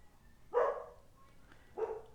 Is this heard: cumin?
no